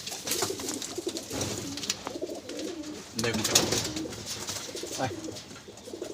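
A male and female Madrasi pigeon coo softly in low, repeated throaty calls close by, while a person speaks briefly over them.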